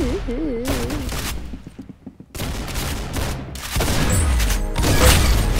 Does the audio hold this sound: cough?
no